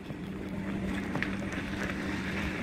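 A pedal boat moves across water at a resort lake in Simlipal Tiger Reserve, a continuous close wash of splashing and churning with wind buffeting the microphone, no clear voices.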